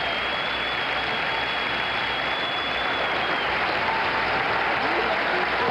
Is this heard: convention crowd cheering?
yes